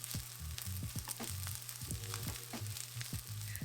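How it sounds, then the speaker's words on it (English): Rice and scrambled eggs being stir-fried in a hot wok give a steady, close sizzle, with a spatula scraping and clattering against the pan in quick, irregular strokes throughout. "mix the rice in."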